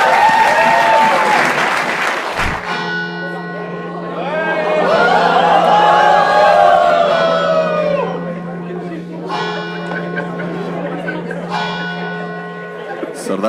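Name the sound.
studio audience applause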